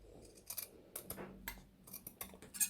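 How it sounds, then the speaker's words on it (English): Scissors snipping the fabric corners of a pillow case during sewing, a series of short crisp cuts and clicks spaced irregularly, close and fairly quiet with no talking. "And now we can just simply cut the corners like so."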